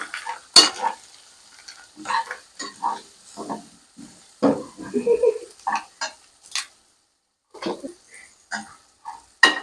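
Spices, including cumin powder, being stirred into soya chunks pulao in a pan, with a series of scraping, clinking strokes and light sizzling in short uneven bursts, close and fairly loud.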